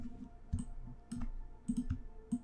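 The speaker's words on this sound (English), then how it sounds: "I'm clicking on each point" A computer mouse clicks repeatedly at a desk while points are selected in Maya 3D modeling software, with quiet, irregular single and double clicks close to the microphone against a faint background hum.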